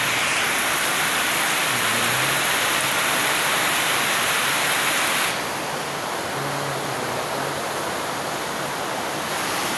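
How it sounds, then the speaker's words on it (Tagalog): Heavy rain pours in a dense, continuous roar, steady and loud throughout with a slight drop in intensity partway through. "Ang lakas ng ulan dito sa amin."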